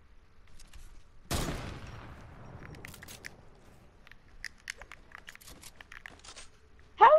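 Sniper rifle fire in Fortnite: one sharp, loud shot with a long decaying tail, then scattered softer clicks and crackles before another abrupt burst at the very end.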